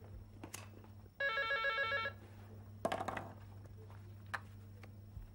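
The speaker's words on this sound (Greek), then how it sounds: "Τηλέφωνο!" A telephone rings once with a loud electronic trilling burst lasting about a second in a quiet room, followed by clattering handling noises and faint movement.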